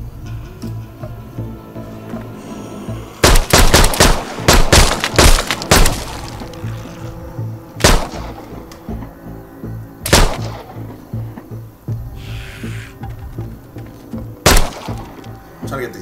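Gunfire against zombies in the VR game Arizona Sunshine on PSVR with the Aim Controller: sharp, loud shots, first a rapid cluster, then single shots spaced a few seconds apart over a steady low game background.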